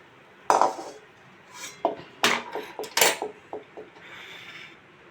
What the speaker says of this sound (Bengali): এবার আমি নামিয়ে নিচ্ছি সার্ভিং বাউলে